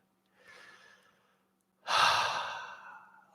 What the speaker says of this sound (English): Actually found myself at points today just sitting, breathing.